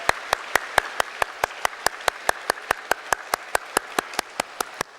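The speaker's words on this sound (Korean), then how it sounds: "우리 좋으신 목자 되신 하나님께 영광으로 박수 드립시다." Steady, sharp claps in an even rhythm from a church congregation during a Sunday service, evenly spaced and fairly loud, with no talk over them.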